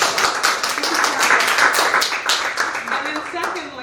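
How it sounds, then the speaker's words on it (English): Audience applause at a NAMI Moultrie gathering, a dense steady patter of many hands clapping throughout, with voices mixed in underneath. "let's just give her another round of applause"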